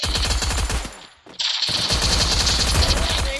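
Rapid automatic gunfire in the battle-royale video game Free Fire, loud continuous bursts that cut out briefly for a moment before resuming at full intensity.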